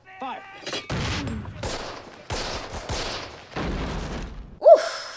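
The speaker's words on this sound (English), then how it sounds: "The shots just zooming past." Gunfire from a Band of Brothers war scene: several loud bursts of rifle and machine-gun fire crack out in irregular clusters, with short gaps between volleys, punctuated by a sharp ricochet-like whine near the end.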